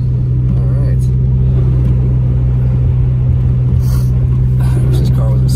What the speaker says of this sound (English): I wish this car wasn't so loud